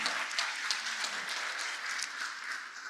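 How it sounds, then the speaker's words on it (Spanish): Steady applause from a university conference audience welcoming a speaker, a dense patter of many hands clapping at moderate volume for a few seconds. "Un fuerte aplauso para él también"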